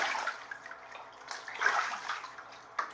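Pet goose splashing and shoveling water onto its back in a bathtub, a run of soft, uneven watery sloshes and flicks close by, swelling midway, with a brief sharper splash near the end.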